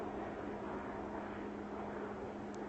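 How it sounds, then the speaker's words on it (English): An airplane circles overhead above a quiet natural spot at sunset, a steady, distant engine drone holding evenly throughout with no other sounds rising above it. "And the plane is circling, coming towards us."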